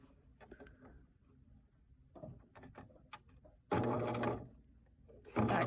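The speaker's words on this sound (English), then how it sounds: "now I'll go to the sewing machine and I'll sew that" A sewing machine stitches fabric box sides in short, loud bursts of rapid mechanical whirring, separated by quieter handling and clicking sounds close by.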